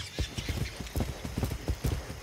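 Horse hooves clip-clop steadily in Far Cry 6, a rapid, even rhythm of close, thudding footfalls, heard alone without talk.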